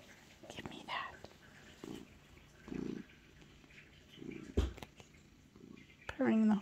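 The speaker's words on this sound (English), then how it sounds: "Purring the whole time." A cat on a farm purrs in soft, low, rumbling bursts, close by, partly masked by quiet murmured voices and handling noises.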